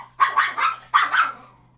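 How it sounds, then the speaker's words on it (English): A dog barks loudly and close in two quick bursts of several sharp barks each, with a low hum beneath and no talking. "Where the dog came from, huh?"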